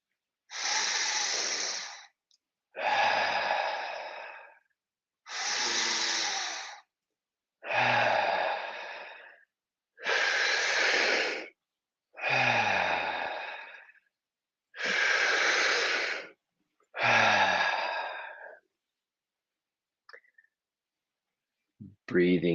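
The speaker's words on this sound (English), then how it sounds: "breathing deeply into our lungs, filling them up, and then let it go" Deep breathing in and out during a guided breathwork session: eight long, loud, breathy inhales and exhales in a steady slow rhythm, each lasting about two seconds, close to the microphone, followed by near silence with a faint click.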